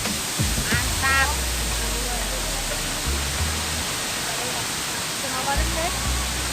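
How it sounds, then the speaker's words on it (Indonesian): Broadband roar of the Temang waterfall in Malaysia, loud and steady throughout, with someone talking over it in short bursts. "aku di air terjun Temang"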